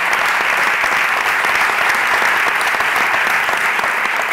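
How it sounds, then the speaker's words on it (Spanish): Loud, sustained applause from a crowd at a town council event in San Pedro Alcántara, steady dense clapping throughout with no talk over it. "yo quiero un fuerte aplauso para el equipo organizador"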